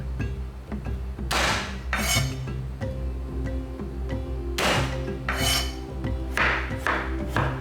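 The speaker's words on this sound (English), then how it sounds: "Next up, we're gonna smash some garlic." Garlic being smashed and handled on a kitchen board while cooking a spiced quail soup, with repeated rasping, scraping bursts and light clinks of utensils and pots, close and fairly loud, without talk.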